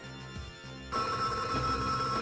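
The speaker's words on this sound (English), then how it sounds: "Got the phone ring, good." Final Fight intro on the Mega Drive: a synthesized telephone rings in a steady electronic trill, loud and continuous, over the game's music with no talk.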